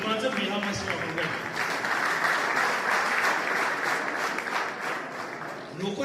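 Sustained audience applause fills a scout week closing event, a dense steady clatter of many hands clapping throughout, loud and continuous with slight swells.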